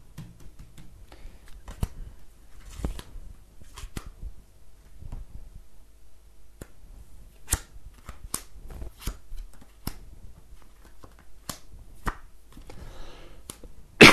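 Tarot cards are shuffled and laid out one at a time, giving sparse, quiet flicks and taps spread irregularly over a near-silent background.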